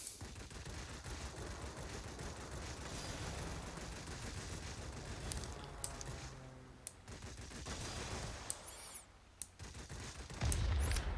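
Aircraft machine guns firing in World of Warplanes from an I-220 fighter, a continuous dense rattle of gunfire over engine drone, with a few sharp clanks and a brief lull near the end.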